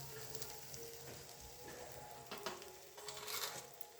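Cumin and turmeric powder fry in hot oil with bay leaf and green chilli tempering, giving a continuous close crackling sizzle with a few louder spatters and a stir.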